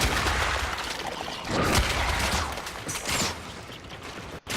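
Gunfire in the video game Warframe, a few loud clustered bursts and booms with mechanical clatter between them, close and busy and ending in a sudden cut.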